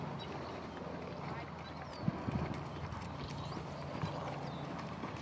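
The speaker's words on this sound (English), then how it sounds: "We got a pretty tall horse today." A tall horse's hooves during a riding lesson make a short cluster of soft clip-clops, then one more a moment later, over steady low background noise with muffled voices.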